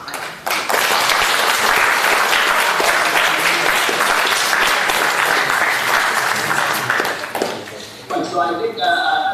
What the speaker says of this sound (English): I want to you to join me in giving a big round of applause to all of you